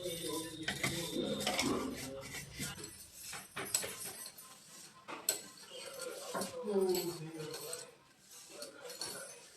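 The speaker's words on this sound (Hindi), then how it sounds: "फिर बर्तन मांजने हैं।" Dishes and cutlery being washed in a home kitchen, with clinks, scrapes and rattling of utensils and pots, close and irregular, mixed with some speech.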